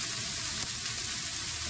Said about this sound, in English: I'm sure you can hear the hissing and sizzling